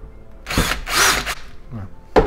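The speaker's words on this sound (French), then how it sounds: "Une mèche de 2 mm et je viens forer." A power drill with a 2 mm bit bores pilot holes into a metal piece, giving a few short whirring bursts separated by pauses during work on a solid wood workshop glass partition.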